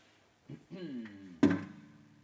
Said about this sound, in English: sound of thumping guitars when they click together